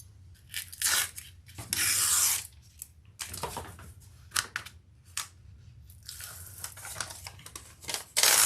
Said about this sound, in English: take the paper off my lining and fold it back